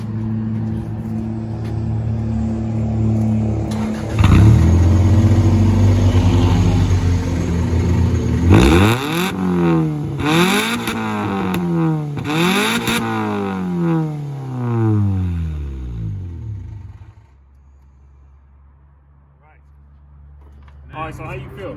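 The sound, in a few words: Acura Integra 4-cylinder Honda engine revving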